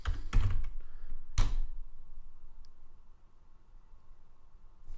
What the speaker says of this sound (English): And now you can actually go to a browser and type in your site.